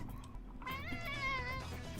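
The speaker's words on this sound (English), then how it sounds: "The cat distracted me." A cat meows with a drawn-out, wavering call lasting over a second, fairly close and clear over a low steady background hum.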